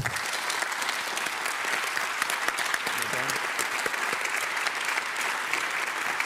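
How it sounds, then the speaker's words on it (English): An audience at the New European Bauhaus festival at Gare Maritime applauds a panel of speakers, full sustained clapping with a few sharper individual claps, faint voices murmuring underneath. "So I would like maybe a round of applause for them."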